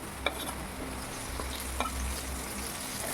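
Cubed potatoes and freshly added chopped onion fry and hiss in hot oil while a spoon stirs them, a steady sizzle broken by a few sharp scraping clinks against the pan.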